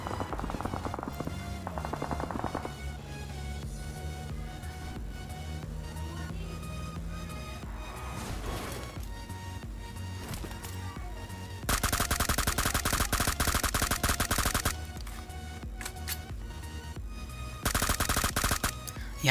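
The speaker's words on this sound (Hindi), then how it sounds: "और अब आप देखना यहाँ पर फायरिंग सुनो।" Gunfire in PUBG Mobile crackles throughout, with sustained loud automatic bursts breaking out midway and again near the end, over a constant background din.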